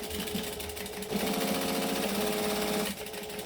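Domestic sewing machine running a seam on fabric with a backstitch, a steady close mechanical whirr swelling to a louder continuous run for about two seconds, then easing off, with no talking.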